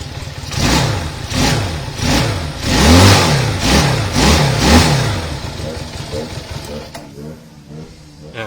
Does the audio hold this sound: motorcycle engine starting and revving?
yes